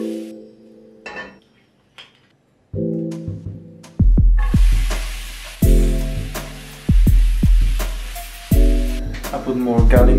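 Garlic and hot chili sizzle and spit in a frying pan, the loud hiss swelling in bursts between sharp metallic pan knocks, with music playing over the cooking.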